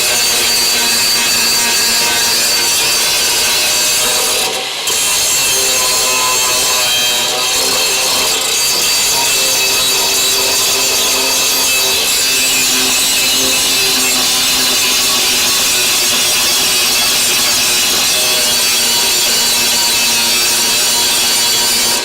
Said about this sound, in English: I got a straight grinding wheel here. This should get material off a lot faster.